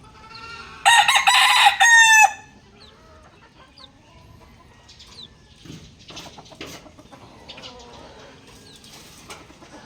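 A black McRae stag rooster crows once, loud and close, a short strained cock-a-doodle-doo, then follows with scattered soft clucks and small rustling sounds.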